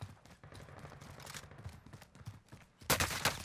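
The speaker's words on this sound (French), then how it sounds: "Oh, on me tire dessus" Gunfire rings out in the Warzone video game as repeated sharp shots and bursts at mid distance, ending in a louder, denser volley near the end.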